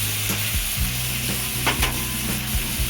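Chopped tomato, turmeric and peeled bottle gourd sauté in a hot pan, a loud, close, continuous sizzle broken by regular stirring scrapes of a spatula.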